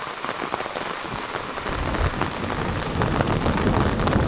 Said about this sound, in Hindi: और बारिश देखो जरा, इससे चलता पता कितनी बारिश आ रही है।